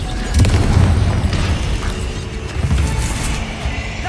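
The Confringo blasting spell in Hogwarts Legacy erupts in a deep booming explosion, loud and close, with a rumbling tail and a second lower thump a couple of seconds later.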